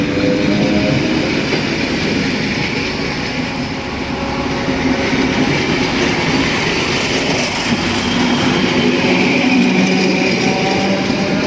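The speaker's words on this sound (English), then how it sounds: "And here's the local, nicely decorated train." A local decorated train passing close, a loud steady rumble with faint clickety-clack of wheels over rail joints throughout.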